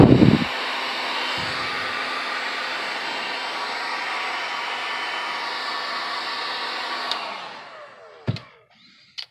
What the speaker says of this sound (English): fire up my heat gun here